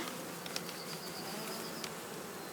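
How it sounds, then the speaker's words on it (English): A steady, dense hum of a swarm of honeybees buzzing together, continuous and moderately loud, with occasional individual bees passing closer. "The bees have swarmed out in search of a new home."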